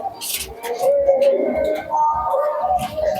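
Madras pigeons coo inside a loft, low throaty murmurs overlapping close by, with a few chirps and a voice speaking over them.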